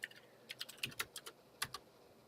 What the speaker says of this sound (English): it's me with my Cherry MX Blues, just fiercely getting my secretary on